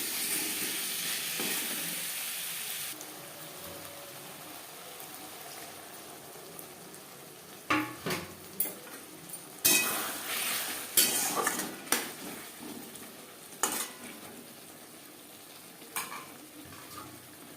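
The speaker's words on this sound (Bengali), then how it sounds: "এই পর্যায়ে দিয়ে দেবো আলু। মশলার সাথে আলু বেশ ভালো করে মিক্স করে দেবো।" Potatoes are stirred into spiced masala frying in oil in a pan for a fish curry with cauliflower, a soft sizzle beneath intermittent scraping and clattering spatula strokes that come in irregular bursts.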